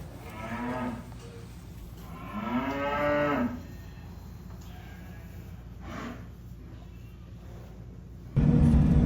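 Heifers around 10 to 12 months old moo on a farm, two long, drawn-out calls near the start and a shorter, softer one later, with quiet outdoor background between them and a loud rumble at the very end.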